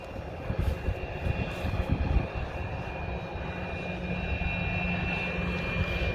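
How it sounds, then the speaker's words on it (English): Embraer ERJ 145 regional jet passing on a cold 2°C day, a steady broadband roar with a faint high whine that holds level and swells slightly, heard alone without voices. "I think this is an ERJ 145,"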